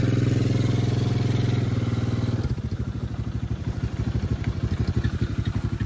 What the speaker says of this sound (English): This thing right here be scraping.